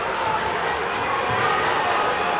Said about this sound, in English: Gales crowd getting loud.